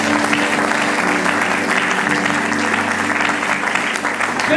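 A church congregation applauds at a French-language sermon, steady loud clapping filling the room, with a faint voice murmuring beneath the crowd.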